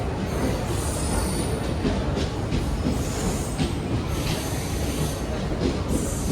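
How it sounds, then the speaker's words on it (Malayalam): A passenger train pulls into a station, a loud, steady rumble of rolling coaches with high metallic wheel squeals and rhythmic rail clatter, close by and continuous throughout. "ട്രെയിൻ വരുന്നത് നമുക്ക് വീഡിയോയിൽ പിടിക്കാം."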